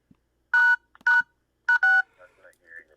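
Telephone keypad tones from pressing star and 6, four clear beeps in two pairs, close and loud, followed by faint murmuring voices.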